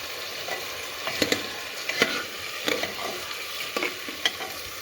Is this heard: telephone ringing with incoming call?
no